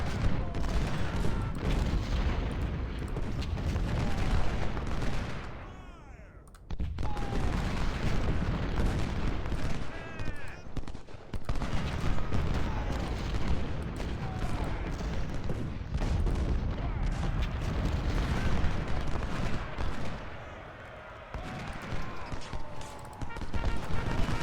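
Continuous battle din from Ultimate General: Civil War, with rolling musket volleys and booming artillery. The fire is dense and loud for most of the stretch, with a brief lull near the middle.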